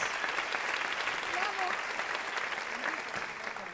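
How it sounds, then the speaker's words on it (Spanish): Audience at a stand-up comedy show applauding, a steady, sustained roar of many hands clapping with faint voices mixed in. "palmas para todos, todas y todos."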